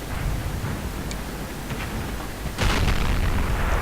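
An E75 tank in World of Tanks fires its cannon, a heavy boom that breaks out of constant rumbling battle and engine noise late in the moment and leaves a louder wash behind it.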